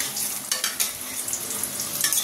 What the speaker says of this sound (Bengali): আলুটা তো ভাজা হয়ে গেছে, তুলে নিই।